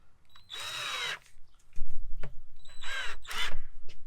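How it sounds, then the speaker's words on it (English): Two loud bursts from a FERREX combi drill set to maximum speed with a 13mm bit, each lasting about half a second to a second. A low thud and rumbling handling noise fall between them. "here we go for the FERREX, normal FERREX combi drill"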